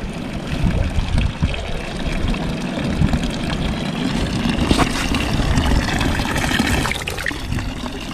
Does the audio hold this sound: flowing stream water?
yes